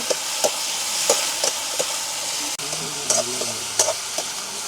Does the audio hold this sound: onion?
yes